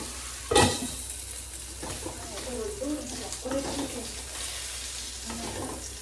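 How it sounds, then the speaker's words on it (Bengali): Potatoes fry in a pan with turmeric and salt, a soft continuous sizzle with a sharp utensil clack near the start and stirring, while a voice speaks over it. "আলুটা একটু ভাজা ভাজা করে নিয়ে দিয়ে দেবো এর মধ্যে পেঁয়াজ কালিগুলো।"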